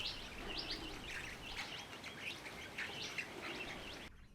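A large flock of galahs and mulga parrots gathers at a raised water trough in dry Australian Mallee country at morning, giving continuous overlapping chirps and chattering calls, fairly close and steady before cutting off abruptly.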